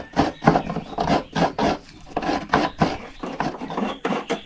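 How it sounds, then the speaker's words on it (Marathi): A half-mature coconut with whitish flesh is grated by hand for Konkani sol kadhi, producing a steady series of close, dry rasping strokes, roughly two per second, with no talking. "खोबरं बघा सगळं किसून घेतलंय."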